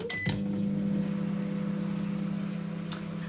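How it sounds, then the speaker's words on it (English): A microwave oven hums steadily while melting two tablespoons of butter in a cup, a loud constant drone that starts after a brief beep-like click and runs on alone. "I'm going to melt it now in the microwave."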